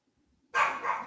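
Dog barks once, loud and close, with a rough sustained yelp that follows a moment of near silence.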